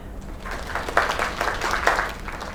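Crowd applause in the video game Lake, a steady wash of clapping with a few louder swells, moderately close and without talk.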